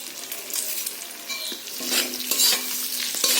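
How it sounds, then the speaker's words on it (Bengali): Spice masala fried in a pan, stirred steadily with a spatula: a continuous close sizzle with repeated scraping strokes and faint clinks, no talking. "ভালো করে এবার মশলাটাকে কষে নেব"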